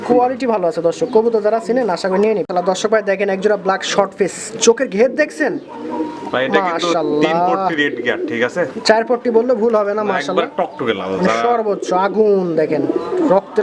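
Pigeons coo softly in the background while someone talks continuously nearby.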